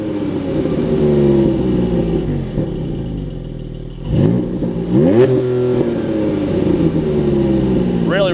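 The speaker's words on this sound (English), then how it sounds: "Rev it up a little bit." A 2022 Porsche 718 Cayman GTS 4.0 flat-six revs loudly and close, climbing and falling in several sharp blips over a steady idle, with brief talk mixed in.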